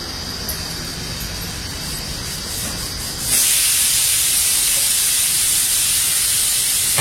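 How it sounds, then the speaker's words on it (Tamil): Appalam (papad) frying in hot oil makes a steady sizzling hiss that suddenly grows louder and brighter midway, like more wafers going in, with no talking. "இப்ப பாத்தீங்கன்னா உங்க அப்பளம் பொரிக்க போறாங்க"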